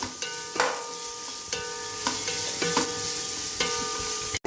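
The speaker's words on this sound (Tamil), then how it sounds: "இதை இனி கொஞ்சம் ஃப்ரை பண்ணிடுவோம்." Onions frying in a pan for a Chettinad quail pepper gravy, a steady broad sizzle with several sharp stirring scrapes and clinks of a utensil against the pan, close and continuous with no talk.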